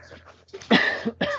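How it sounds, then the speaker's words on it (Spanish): Two close, sharp coughs in quick succession, the second shorter, with a faint murmur before them. "tengo una tosecita ahí desde ayer"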